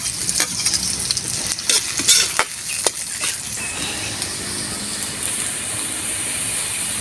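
Garlic and onion sautéing in a pan for pork leg stewed with pineapple, a loud continuous sizzle broken by several sharp scraping stirs early on, then settling into an even fry with no talking.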